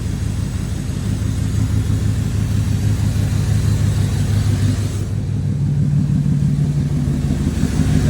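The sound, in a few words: C4 Corvette engine running on Fitech Ultimate TPI ECU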